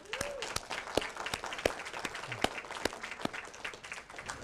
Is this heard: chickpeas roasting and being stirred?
no